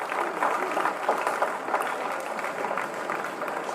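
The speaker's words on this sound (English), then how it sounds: "a big round of applause to the school for making us who we are." A school audience at Rosary Convent High School's annual day celebration claps in sustained, even applause that fills the hall steadily from start to finish, with no voices rising above it.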